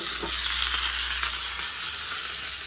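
Curry leaves dropped into hot oil just after mustard seeds, for sambar rice, give a steady broadband sizzle and frying crackle that runs evenly through, close and fairly loud, with no voices.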